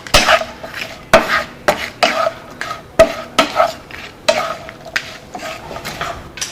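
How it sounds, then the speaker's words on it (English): Skate fries stirred in a pan, sauce going with the heat turned off, giving repeated scraping and clattering strokes of utensil against pan in an uneven rhythm, close and fairly loud, with faint sizzling between. "We'll stir them up."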